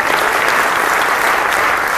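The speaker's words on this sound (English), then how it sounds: "Give her a round of applause." An audience at a men's empowerment summit applauds a councilwoman from Compton, producing dense, loud, continuous clapping from a large crowd throughout.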